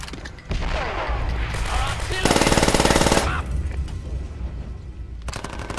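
Browning machine gun in a Call of Duty match, a rapid burst of loud, close automatic fire lasting about a second, set amid other gunfire and battlefield noise, with someone talking over the action.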